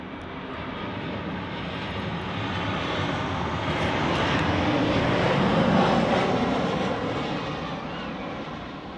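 An airliner lands at Manchester Airport, its engine roar swelling gradually from a distance to a loud broad rush at its peak, then starting to fade as it passes.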